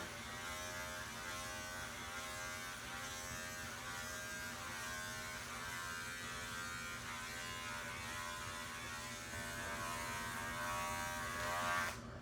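Electric clippers buzz steadily and close by while trimming the head and brow of a doodle dog during grooming, a soft continuous hum with no talk.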